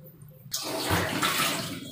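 Water poured into a pot of rice for vegetable pulao in a home kitchen, starting abruptly as a loud, steady splashing gush that continues to the end, with no talking.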